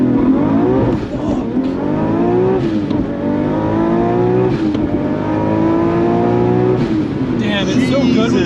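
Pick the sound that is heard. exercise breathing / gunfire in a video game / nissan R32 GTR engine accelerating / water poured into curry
nissan R32 GTR engine accelerating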